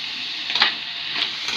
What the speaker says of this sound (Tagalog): pwede nyo nang ihalo ang tomato sauce